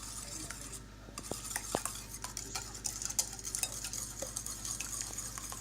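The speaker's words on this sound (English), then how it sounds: "So what I'm creating is a rough batter from eggs" Eggs being whisked into a rough batter in a bowl, a quiet, continuous run of fast ticking and clinking strokes from the whisk, no voices.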